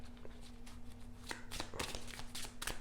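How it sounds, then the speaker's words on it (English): Tarot cards riffle and snap in quick bursts, close up, with crisp papery flutters and a steady faint tone in the background. "let's shuffle for the rest."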